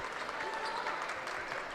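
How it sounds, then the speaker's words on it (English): Mosinee student section applauding during a high school basketball game against Shawano in a gym, a steady wash of clapping and crowd noise filling the short stretch without pause. "Mosinee student section applauding their defense here."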